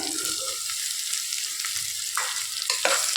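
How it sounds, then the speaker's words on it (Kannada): Steady loud sizzling as chopped ridge gourd goes into a pan of frying onions, with occasional scraping and stirring sounds over the continuous hiss. "ಈ ಟೈಮಲ್ಲಿ ಹೀರೆಕಾಯಿ, ಒಂದು 1/4 kg ಹೀರೆಕಾಯಿನ ಚಿಕ್ಕದಾಗಿ ಕಟ್ ಮಾಡಿ ಇಟ್ಕೊಂಡಿದ್ದೀನಿ, ಅದನ್ನು ಹಾಕ್ಕೊಳ್ತಾ ಇದ್ದೀನಿ"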